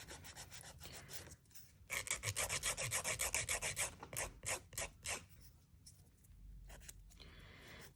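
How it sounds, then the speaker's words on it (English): An electric nail file shapes stiletto tips in bursts of rasping, buzzing contact, loud and close, with pauses between passes. "So now I'm just gonna file the shape and reshape it."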